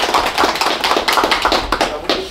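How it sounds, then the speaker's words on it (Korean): An audience at a farming talk claps for a guest farmer, producing a run of close, irregular hand claps that sound thin and tappy, steady throughout with no speech. "일단 큰 박수 한번 보내주시죠."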